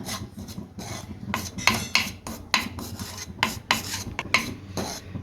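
Whole spices dry roasted without oil in a pan on low flame, with repeated rhythmic scraping and rasping strokes of a utensil against the metal, close and clear.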